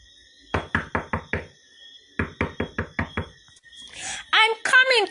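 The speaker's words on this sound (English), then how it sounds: "a knock came on the door." Two clear bursts of five sharp knocks on a door, close and loud, separated by a short pause, then a voice speaks.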